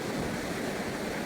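Sea waves wash continuously on a Kerala beach at dusk, a steady broadband roar with wind, no distinct breaks and no voices.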